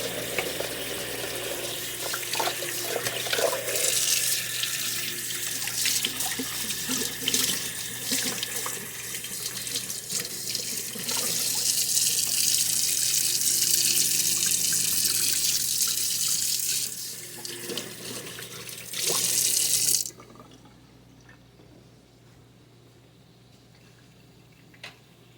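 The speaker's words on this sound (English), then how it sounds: "Let me wash my hands and I'll be right back." A kitchen tap gushes into a sink during handwashing, with splashing and rubbing under the stream for about twenty seconds before it shuts off, leaving a quiet room hum.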